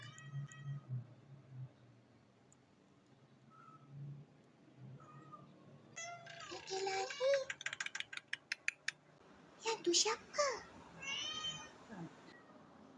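A cat meows repeatedly and insistently, several drawn-out cries close by, following quiet talk from a child and an adult.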